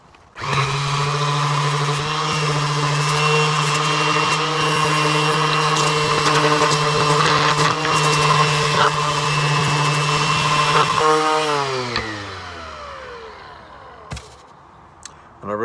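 A power sander works an oak phone stand with 120 grit sandpaper, a loud steady motor whine with a grinding hiss for about eleven seconds, then the motor winds down and a few clunks follow.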